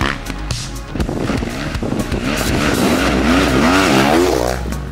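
An Avantis enduro off-road motorcycle revs hard and steadily through its gears, the engine note climbing and wavering as it rides close and loud, with a rough low rumble and no talking.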